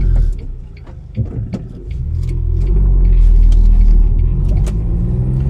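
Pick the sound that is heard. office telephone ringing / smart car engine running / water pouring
smart car engine running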